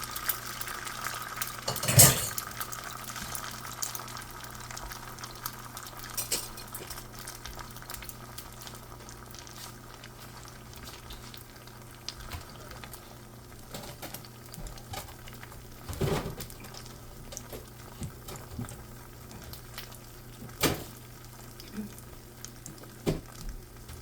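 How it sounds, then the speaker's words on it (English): Eggs frying in a pan for a chicken long rice dinner, a steady soft sizzle throughout with occasional louder clanks of a utensil against the pan. "So let's fry the eggs."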